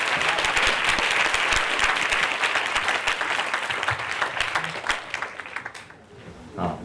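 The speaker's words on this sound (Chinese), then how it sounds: "让我们以热烈的掌声欢迎台湾大学李嗣淳校长为我们开场致辞" Audience applause at a university lecture greeting a speaker, with a full burst of clapping that thins and fades toward the end, then faint voices as it dies away.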